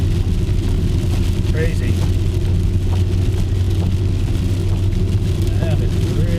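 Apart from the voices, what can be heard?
heavy rain pouring down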